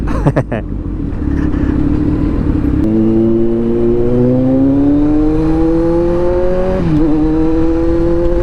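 A Kawasaki Z900 big bike roars loudly on a ride to work, its engine note climbing steadily as it accelerates, with a brief dip and rise near the end, heard up close over wind rush.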